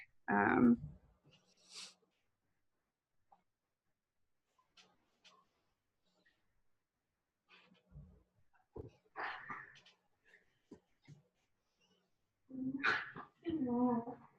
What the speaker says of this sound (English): if you hear something crazy, my dogs are playing on the floor